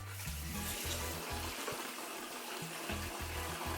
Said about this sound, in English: we're gonna start siphoning for the first time